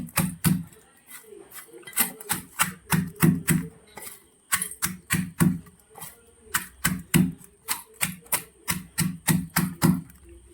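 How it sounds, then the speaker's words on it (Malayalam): Dried prawns being crushed for a yam and prawn tamarind curry, a steady run of sharp, rhythmic pounding knocks, close and fairly loud, with short pauses between bursts and no talk. "ഇനി ചെമ്മീൻ നമുക്ക് ഒന്ന് പൊടിച്ചെടുക്കാം. നല്ലവണ്ണം പൊടിക്കണ്ട, ജസ്റ്റ് ഒന്ന് ക്രഷ് ചെയ്താൽ മതി."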